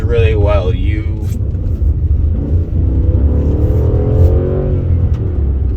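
A V10 Audi S6 cruising on wet roads at moderate speed, its engine a steady low rumble with light throttle rises, while a person talks throughout.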